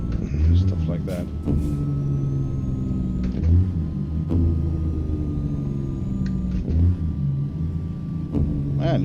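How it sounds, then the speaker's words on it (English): A log truck engine revs and pulls through gear shifts, its deep rumble rising and falling with a couple of sharp air-release hisses, loud and steady throughout. "you can make this one sound pretty good if you shift gears right way and have the right RPMs"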